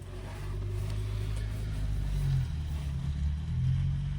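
A postman's vehicle passes outside, a steady low engine rumble that holds at moderate volume and swells slightly as it goes by, with no voices.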